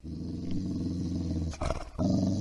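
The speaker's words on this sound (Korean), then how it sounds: "무엇 때문에 갑자기 으르렁거리는 거야?" A dog lying on a rug before a fireplace suddenly growls, a low, rumbling, sustained snarl that briefly breaks, then resumes loud and close.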